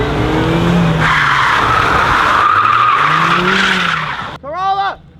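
Street racing cars drifting in tandem, with loud, continuous tire screeching over roaring engines, close by, and a short burst of shouting near the end.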